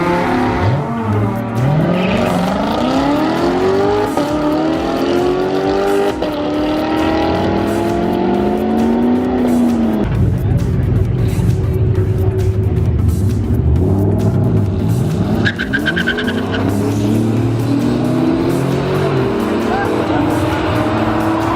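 A 2015 Lamborghini Huracan accelerating hard down a drag strip, its engine rising through gears loud and close, with brief shifts between climbing pitches.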